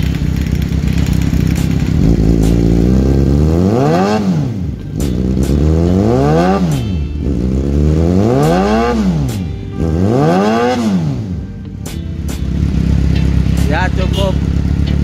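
A Suzuki GSX-R 600 sport bike engine revved hard several times in a row, each rev climbing to a high whine and then falling back. The bike is loud and close, with people talking over it.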